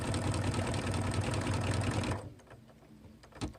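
An embroidery machine stitching out a design, a fast steady mechanical chatter of needle strokes that runs for about two seconds, then stops, leaving a faint quiet room with a small clack.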